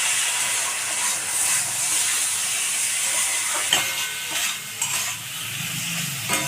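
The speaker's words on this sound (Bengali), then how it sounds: "এবার মশলাটাকে আমি কষে নেব।" Ground spice paste stir-fries in a hot pan, a dense continuous sizzle and hiss with a few louder scraping stirs near the end.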